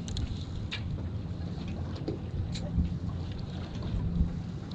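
A low engine rumble from offshore fishing boats gathering bait mixes with wind and water noise, with faint distant voices underneath.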